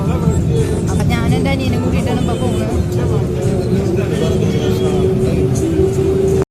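Steady rumble of a bus interior on the road toward Calicut University, a continuous engine drone with a rising whine near the end, under a constant hubbub of passenger chatter and talk.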